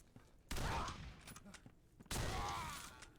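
Gunfire in the video game Condemned: Criminal Origins: two loud, sustained blasts about a second and a half apart, each bursting in sharply and tailing off, with nobody talking.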